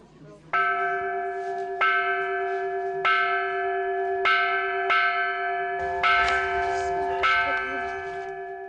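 Mindfulness bell at a meditation centre rings six times at an even pace, each clear metallic strike leaving a long humming ring that overlaps the next, close and moderately loud in a quiet room.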